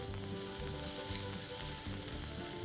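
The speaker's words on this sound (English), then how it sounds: "In the hot oil, let's add some jeera, followed by some onion." Cumin seeds and chopped onion sizzle in hot oil for a rajma gravy, a dense continuous frying hiss with crackle, steady and close without any voices.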